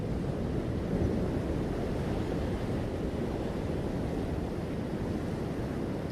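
Continuous surging of water waves fills the space, a thick, uniform roar with a soft airy edge that holds level throughout.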